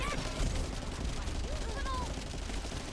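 Weapon fire in The First Descendant during a hard mode boss fight comes as rapid shots layered over dense game effects, with a player's voice.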